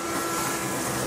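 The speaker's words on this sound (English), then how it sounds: "I'm just gonna vacuum up the extra." A vacuum cleaner sucks up leftover baby powder from a vacuum forming mold, giving a steady, even rushing whoosh that runs without a break and without voices.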